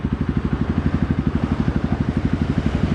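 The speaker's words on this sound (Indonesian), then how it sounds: "Maka mesin langsung hidup." A Honda CRF 150L motorcycle engine idles steadily close up, its even, rapid thumping pulse running without a break.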